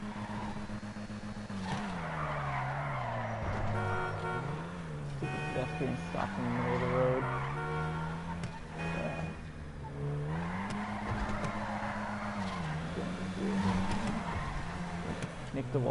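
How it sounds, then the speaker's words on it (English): A car drifting through a parking lot scattered with parked cars in GTA Online, its engine droning and rising while tires squeal steadily, with someone talking over it throughout. "It's a little harder to drift through this area now that there's cars scattered throughout the parking lot."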